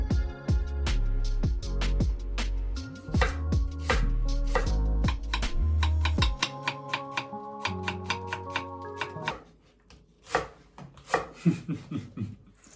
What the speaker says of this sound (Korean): 다음에는 파를 썰어줄 건데요